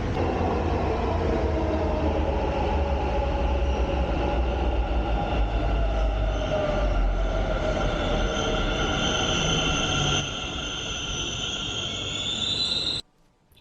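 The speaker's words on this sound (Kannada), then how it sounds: "ಗುರುಗುಂಟೆಪಾಳ್ಯದಿಂದ ಮೆಟ್ರೋದಲ್ಲಿ ಹೋಗ್ತಾ ಇದ್ದೀವಿ ಮಹಾಲಕ್ಷ್ಮಿ ಲೇಔಟ್ಗೆ" A Bengaluru metro train rumbles steadily from inside the car, running from Goraguntepalya to Mahalakshmi Layout, with a rising whine as it runs, then the noise cuts off abruptly near the end.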